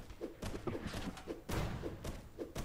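Ship cannons fire in the pirate naval game Blazing Sails, a run of heavy dull thuds and booms, several close together and loud, over continuous game noise.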